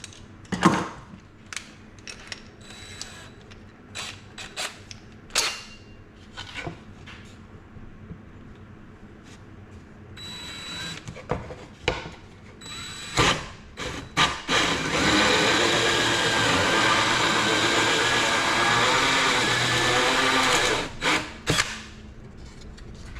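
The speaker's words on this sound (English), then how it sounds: "we'll drill 1 hole" Scattered clunks and taps give way to a power drill whirring steadily for several seconds as it bores a hole into wood for a dog-toy freezer holder, then stopping.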